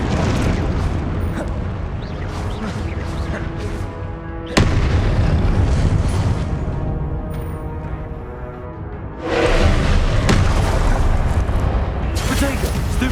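Booming fire-spell explosions in the Hogwarts Legacy video game burst out in two loud hits over a steady bed of game sound and battle noise, with a voice calling out spells.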